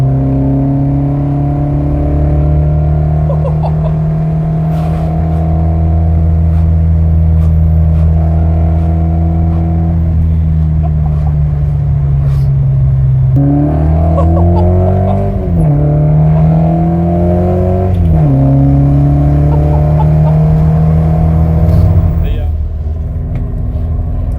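A 1972 Ford Escort Mk1 with a 122 hp engine drives hard through bends; a loud, steady engine drone rises and falls with throttle changes and gear shifts around the middle, close to the microphone, with talk heard over it.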